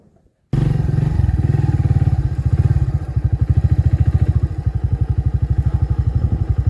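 After a brief silence, a motorcycle engine starts and labours loudly up a steep, foggy mountain road near the village of Tarubatang, Selo. Its close, throbbing exhaust pulses steadily with no voices.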